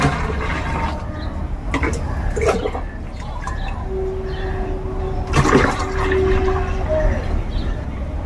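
Two litres of water pour and slosh into a homemade iron and magnesium plant remedy, a running, gurgling wash with scattered clinks and taps, alongside a brief high tone and faint background voices.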